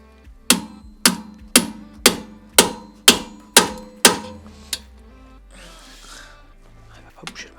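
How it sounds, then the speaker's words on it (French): A hammer strikes an impact screwdriver to loosen a stuck brake drum screw on a Suzuki Swift 1.2 VVT. Eight loud, evenly spaced metallic blows ring out, then one lighter tap and some faint rustling and handling noise. "moi, j'utilise un tournevis à frapper pour éviter tout risque que ça ripe"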